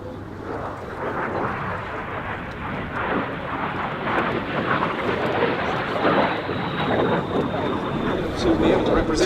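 A MiG 15 jet makes another pass at the Duxford Battle of Britain airshow, its steady broad roar washing past at a distance with wind buffeting the microphone and an announcer talking over it.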